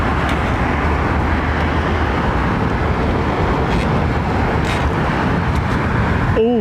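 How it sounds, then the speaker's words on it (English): A DHL jet taxis at London Heathrow Airport, its engines giving a steady, loud broadband roar that fills the scene without pause, mixed with general airport and road noise. "DHL jet just taxiing out."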